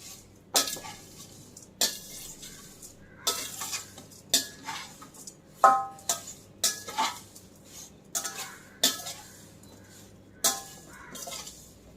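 Thin poha flakes roasting in a pan over medium heat, stirred with a metal spoon: repeated scraping strokes and light clinks against the pan at a steady pace, close by over a faint background hum.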